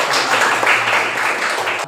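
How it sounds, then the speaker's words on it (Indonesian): Students and teacher in an Islamic religious education classroom lesson break into a steady round of hand clapping, a dense continuous patter that holds at an even level for about two seconds. "Tepuk tangan yang untuk kalian."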